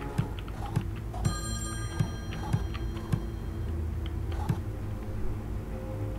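A mobile phone rings in the Friday the 13th: Killer Puzzle video game, a steady electronic ringtone with sustained tones over a rhythmic ticking game backdrop, moderately loud and without talk.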